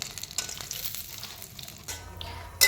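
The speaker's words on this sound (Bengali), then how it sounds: "সেই জন্য কড়াইতে ঘি নিয়ে নিচ্ছি। প্রথমে আমি কাজু বাদামগুলোকে ভেজে নেব ভালো করে।" Cashew nuts frying in ghee in a wok make a soft, uneven sizzle with light stirring sounds, close but fairly quiet.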